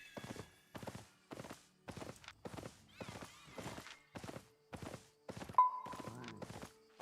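Hooves of a tier-5 horse mount in Albion Online clop in a slow, even rhythm of about ten distinct strikes. They are fairly quiet and close, with a brief tonal game sound near the end.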